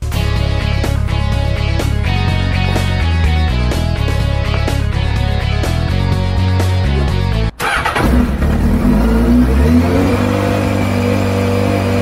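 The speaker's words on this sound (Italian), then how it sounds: "una volta accesa la motocicletta lo lasciamo girare al minimo, non acceleriamo troppo" A motorcycle engine during an oil change catches and settles into a steady running drone in the last few seconds, taking over abruptly from loud tonal music that fills the first part.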